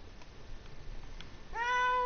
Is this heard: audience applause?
no